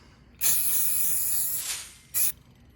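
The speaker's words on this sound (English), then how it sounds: "Little spray paint." A spray paint can hisses in one long burst, then gives a second short spray after a brief pause, close and clear, while building a bird feeder.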